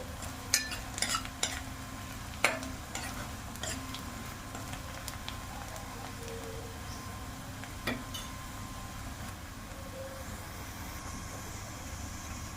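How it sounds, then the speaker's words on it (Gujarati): Onions sautéing in a pan until reddish make a soft continuous sizzle, broken by a few sharp clinks and scrapes of a spoon against the pan, quiet and close, no talking. "ડુંગળી થોડી ઘણી લાલ થઈ જાય તેથી ચડાવવાની છે"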